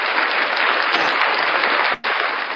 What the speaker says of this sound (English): Guys, can you clap for the guest?